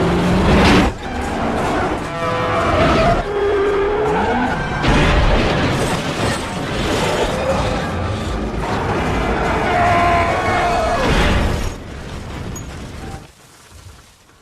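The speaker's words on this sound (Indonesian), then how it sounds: "mobil Terry mengalami remblong dan mengalami kecelakaan yang parah" A car whose brakes have failed crashes in a film scene, loud dense impacts, screeching and crunching metal filling the clip amid dramatic music and a raised voice, ending in a sudden drop to quiet.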